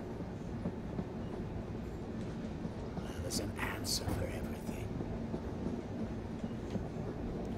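A train rolls steadily along the rails with a low, continuous rumble and soft clatter inside the carriage, while a quiet voice speaks over the noise and brief hissing bursts rise midway through.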